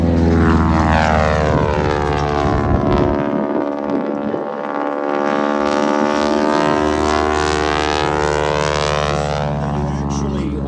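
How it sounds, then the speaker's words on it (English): A loud propeller aircraft drones close by, its harsh buzzing roar shifting in pitch as it passes, with faint talk mixed in. "Much of the sound that you hear is the sound generated by the propeller tips breaking the sound barrier."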